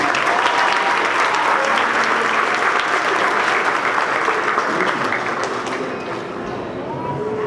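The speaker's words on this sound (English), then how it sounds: "Can we give all the Grice Gladiators another round of applause" Sustained, dense audience applause at an education excellence awards ceremony, a loud, even roar of many hands clapping that slowly fades toward the end.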